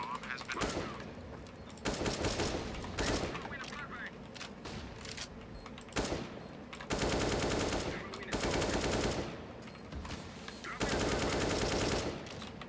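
Repeated bursts of automatic gunfire in a video game, some long and rattling and others shorter, separated by brief gaps, with voices talking faintly in places.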